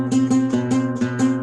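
A flamenco guitar repeats a dissonant flat-second chord in quick strums about five times a second, each bright attack ringing over a sustained low tone, close and fairly loud.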